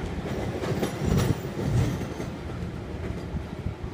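A diesel-hydraulic locomotive passes on a railway line, its broad rumbling roar and rolling wheel noise steady and fairly close throughout, with no voices.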